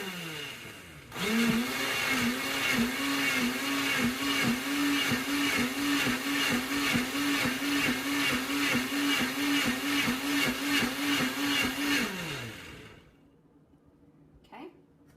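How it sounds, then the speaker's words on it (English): Blender pureeing carrot and ginger soup with the lid's center stopper removed and covered by a towel, a loud pulsing whir starting abruptly, running about eleven seconds and winding down before a quiet ending. "blend it up till it's finely pureed"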